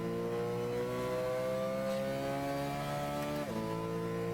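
Racing car engines in the video game Gran Turismo 6 drone steadily at high revs, the pitch climbing slowly before a sudden drop at a gear change, loud and continuous throughout.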